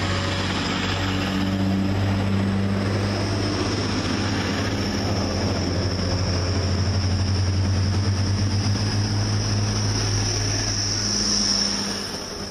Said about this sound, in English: It's a freight train that sounds like a pizza bus.